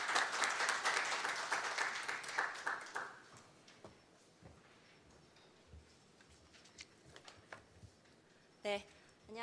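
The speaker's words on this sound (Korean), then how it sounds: "박수 부탁드리겠습니다." Audience applause at a financial crime prevention seminar in Korea, loud, dense clapping for about three seconds that quickly fades, followed by quiet room noise, scattered light taps and a brief sharp sound near the end.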